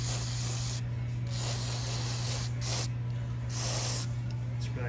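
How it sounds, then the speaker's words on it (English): Several short bursts of Finish Line cleaner spray onto a bicycle disc brake hiss in quick succession over a steady low hum, each spritz lasting under a second. "So I'm gonna go ahead and give this a nice spray everywhere."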